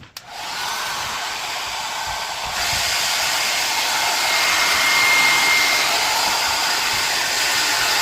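A heat gun blowing hot air to set the adhesive of a decal on a 2014 SSR SR70c pit bike, a steady close whooshing roar that starts abruptly and swells slightly, with no talking.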